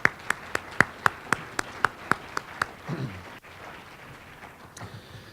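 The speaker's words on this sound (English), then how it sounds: "A round of applause." A single person claps about a dozen times in an even, moderately quick rhythm at a community awards celebration, then the claps stop and faint room noise and a soft voice follow.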